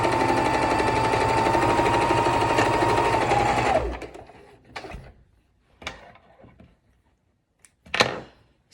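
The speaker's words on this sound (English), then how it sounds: "what I just did is I sewed my right sides together along my nose piece there" A sewing machine stitches face mask fabric along the nose piece in a fast, steady whir for about four seconds, then stops, followed by a few scattered handling clicks and knocks in near quiet.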